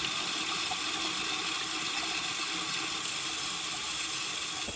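Tap water running steadily over a Sonic the Hedgehog heat-change coffee mug, a constant close hissing stream with no talk.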